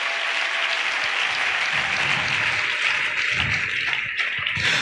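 A church congregation applauding, a loud, dense wash of clapping that fills the space steadily, with faint voices and cheers mixed in.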